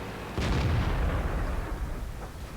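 AMX 13 90 light tank main gun firing in a tank battle video game, a single loud booming shot with a rolling low-end rumble that fades slowly.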